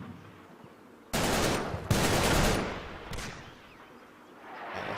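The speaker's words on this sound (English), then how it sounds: "That was a German mortar." In the WWII strategy game Combat Mission: Battle for Normandy, a German mortar shell explodes in a sudden loud bang, followed by a second blast and a decaying rumble, with softer distant booms trailing off.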